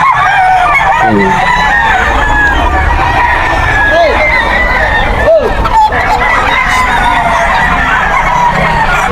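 Stag roosters at a busy pet market in Bocaue crow repeatedly, several loud close calls overlapping amid clucking and a low background murmur of people.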